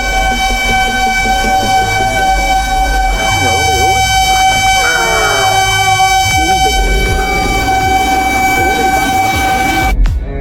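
A loud horn is blasted into a man's ear in a film scene, sounding in long, blaring, sustained tones over music and other sounds. It cuts off abruptly at the very end.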